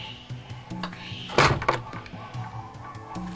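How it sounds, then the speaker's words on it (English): Wooden door of Noah's ark slamming shut as a sound effect, one heavy thunk mid-clip amid a faint, murky background of low rumbles and soft knocks. "Noah scrambled up the gangplank, and God closed the door."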